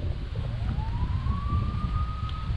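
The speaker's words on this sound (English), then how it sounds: "It's a tornado siren." Tornado siren test sounding from across Cave Run Lake in Kentucky, a distant rising wail that climbs and then holds a steady tone over a low outdoor rumble.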